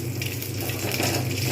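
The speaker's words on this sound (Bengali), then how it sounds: "কিশমিশগুলো আমি কিন্তু ভেজে নেবো ভালোভাবে, যাতে না পুড়ে যায়" Raisins sizzle in hot oil in a pan for kheer, a steady close frying hiss and crackle with a low hum beneath, no voices.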